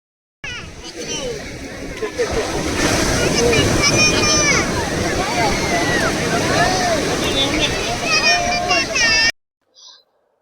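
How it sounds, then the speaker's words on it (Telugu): Sea surf on a beach, a loud continuous rushing roar of waves washing in and pulling back, with excited voices of people playing in the water mixed through it; it ends abruptly. "ఇక్కడ చూసారా వేవ్స్ వచ్చి వెనక్కి వెళ్ళే టైంలో"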